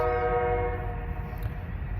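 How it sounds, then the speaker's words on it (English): A train leaves a station and passes through, its horn tone ringing strongly at first and then fading over a low, steady rumble. "Got the train coming through, leaving the station"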